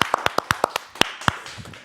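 Studio clapping on a podcast set: a quick run of about ten sharp, close hand claps in a loose rhythm over roughly two seconds, with no talk.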